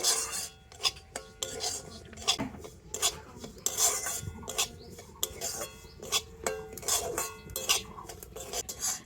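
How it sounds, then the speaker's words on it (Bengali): Semolina is roasted in ghee in a pan, with a spatula repeatedly scraping and rasping against the metal, making light clinks in an irregular rhythm close by and no talking. "আর এই ঘিয়ের সাথে সুজিটাকে একটু ভালো করে ভেজে নেব।"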